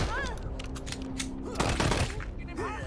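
Rapid bursts of gunfire in Wasteland 3, dense overlapping shots and automatic fire in a chaotic firefight, loud and near, with people talking over it.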